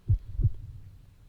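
Heartbeat sound effect from a visual novel: two deep, muffled thumps in a quick lub-dub pair, close and booming, then fading into a low hum.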